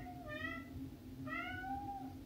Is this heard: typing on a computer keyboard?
no